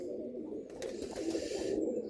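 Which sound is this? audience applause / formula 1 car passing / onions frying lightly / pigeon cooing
pigeon cooing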